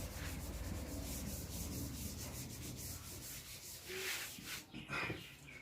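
Something is rubbed back and forth across a board in close, continuous scraping strokes, steady at first and then breaking into a few separate, louder rubs near the end, with no talking.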